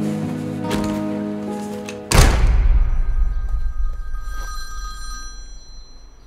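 A telephone bell rings loudly in a quiet room for about two seconds, then stops with a thud as the receiver is picked up, leaving a fading hum behind.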